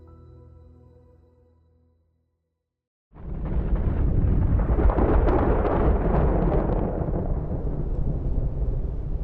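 A thunderstorm's deep thunder rumbles in loud and sustained, rolling on with a broad roar and no speech, after a brief quieter stretch with a low tonal sound that fades into silence.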